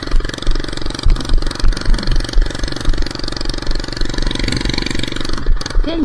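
Small minibike engine on a ride, a buzzing, clattering motor held near and loud for several seconds as the throttle rises and falls, heard alone without speech.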